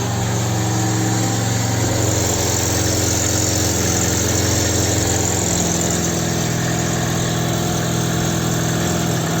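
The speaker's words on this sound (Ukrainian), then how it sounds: "Завели мотор." A Daewoo Sens 1.3 car engine idles steadily at close range, a constant low hum with a mid-range drone, no voices throughout.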